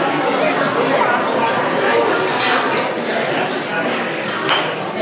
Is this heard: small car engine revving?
no